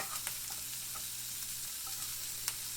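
Eggs frying in cooking oil in a pan for egg fried rice, a steady bright sizzle with occasional small pops and crackles, close and continuous, no talking.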